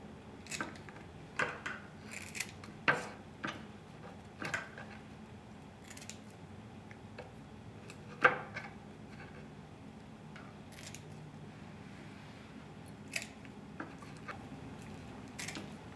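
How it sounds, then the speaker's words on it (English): Intermittent snips of scissors cutting the fins off a fish, scattered clicks and crunches at irregular intervals, close by, with quiet handling noise between. "I use just my scissors, cut off, instead of using knife."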